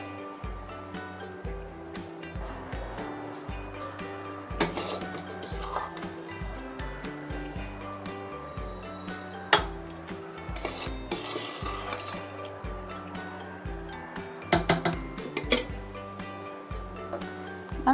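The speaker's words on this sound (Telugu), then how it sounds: "ఇలా మొత్తం అన్నం అంతా వేసేద్దాం." Cooked rice spooned from a utensil into a pot for homemade chicken dum biryani, with repeated scraping and clinking of metal on metal and soft thuds, close and quiet, interrupted by a few louder clanks.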